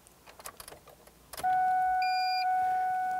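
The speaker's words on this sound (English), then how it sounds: "There's the beep right there." Ford Mustang ignition chiming while a transponder key is programmed, a steady loud electronic tone with two short higher beeps layered in, following some faint handling noise.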